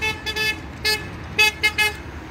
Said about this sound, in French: Donc on entend bien les klaxons hein